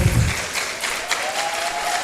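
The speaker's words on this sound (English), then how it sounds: "Please, can we give her a round of applause as she steps forward to receive that?" A ceremony audience at a World Environment Day event at Igbinedion University, Okada, breaks into a short burst of applause, dense and steady, with no talking.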